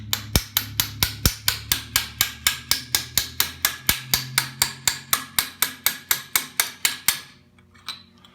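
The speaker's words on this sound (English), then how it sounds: "I'm holding the piston towards me while I'm tapping on it there" Sharp metallic taps on a stuck piston from a KTM 250/300 two-stroke engine during a top-end rebuild, around thirty evenly spaced close hits in a steady rhythm that stop near the end.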